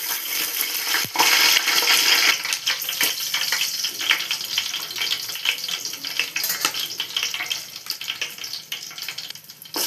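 Ingredients for a Sunday biryani fry in hot oil, giving a dense, steady crackle up close, punctuated by a few brief metallic clinks, with no speech.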